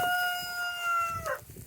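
On a farm during morning chores, a rooster gives a short, clear crow at moderate distance, with faint background clucks and rustling around it.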